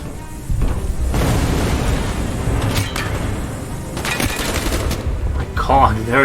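Dense gunfire from the Call of Duty: Black Ops video game, a loud, continuous mix of rapid shots, bursts and booming impacts through a chaotic battle, with voices partly mixed in.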